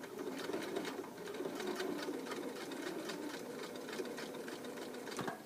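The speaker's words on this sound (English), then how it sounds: "with a back stitch, and then I'll sew a straight line down to the bottom of my casing" Sewing machine stitching an elastic casing on shorts, going forwards and backwards in a back stitch: a quiet, steady rapid mechanical chatter with fine rhythmic ticks, close and continuous.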